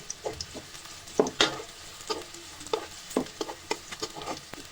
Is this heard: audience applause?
no